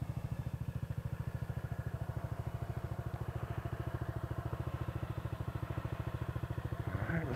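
A Twister Hammerhead 250cc dune buggy engine runs steadily with a fast, even putter, loud and close, swelling slightly near the end as it picks up revs. No voices are heard.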